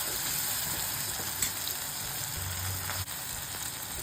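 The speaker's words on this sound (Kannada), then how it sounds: "ಗೋಡಂಬಿ ಹಾಕ್ಕೊಂಡು ಬಾಡಿಸ್ಕೊಬೇಕು" Cashews frying in hot fat in a pan for paneer butter masala, a loud, steady, hissing sizzle that runs unbroken throughout with only faint bumps.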